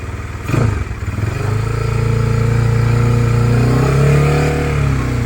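A 240cc motorcycle engine undergoing break-in revs up sharply after a brief idle, then holds a loud, steady high-RPM drone close to the microphone for several seconds.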